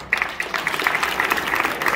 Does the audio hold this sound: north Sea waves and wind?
no